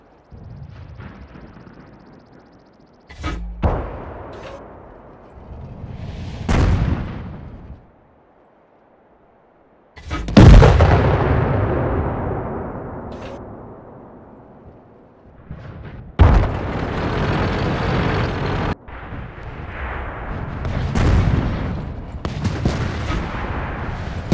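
Tank cannon blasts and shell impacts in a World of Tanks-style game with a British FV304 on the steppes map: several loud booming shots and hits with rumbling decays, separated by short quiet gaps.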